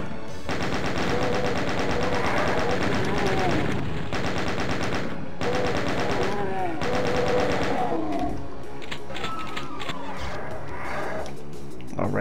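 Sustained rapid gunfire from shotgunner and chaingunner enemies in Doom 2 (Back to Saturn X), dense repeated shots nearly unbroken for about eight seconds, then thinning into scattered bursts and monster roars.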